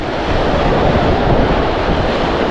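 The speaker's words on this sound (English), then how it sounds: "That wind really picked up." Strong wind buffets the microphone on a beach along Lido Key facing Sarasota Bay, a loud continuous roar blended with crashing surf, steady throughout with no voices.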